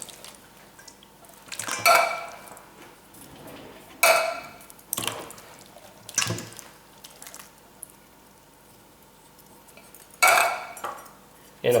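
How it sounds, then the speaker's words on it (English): Pulled-pork sauce ingredients, including ketchup, are mixed in a big bowl with a utensil, giving sharp clinks and scraping bursts in a few separated clusters against a quiet background. "essentially you're going to mix all these ingredients"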